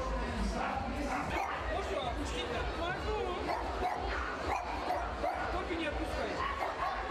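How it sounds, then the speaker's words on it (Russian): Many small toy-breed dogs such as spitzes yap and bark in a crowded outdoor gathering in Moscow, a dense, continuous chorus of high yips and whimpers mixed with people talking over it. "Главные требования к участникам сегодняшнего мероприятия – это собачки мелких пород возрастом от 1 года."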